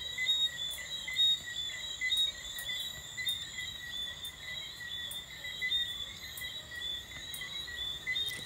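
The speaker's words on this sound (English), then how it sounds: "you can hear the crickets and everything in the background" Steady, dense cricket chirping fills the night air, several insects trilling continuously at a moderate distance with no voices.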